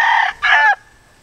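Gamefowl rooster of a bred bloodline on a farm crowing close and loud in two strong bursts, the second longer, then tapering off into quiet.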